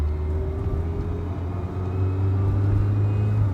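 Low, steady engine drone from a 1983 Ferrari 308 GTS pulling through the gears, rising slightly in pitch and loudness after a brief dip, heard from inside the car.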